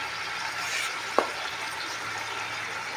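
Malabar spinach with its stalks, salt and green chillies fries in a pan as a steady, fairly loud sizzle with one brief sharp tap of a utensil partway through; no voices.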